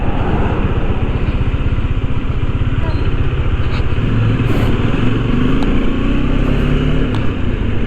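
A motorcycle rides through traffic on a mountain road near Olongapo City, its engine a steady, loud drone that runs unbroken from start to finish under constant road and wind noise.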